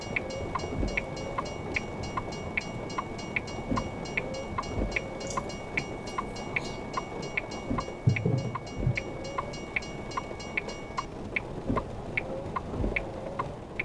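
A train in the video game American Truck Simulator rolls past with steady rhythmic rail clicks over a continuous engine rumble, moderately loud and unbroken throughout.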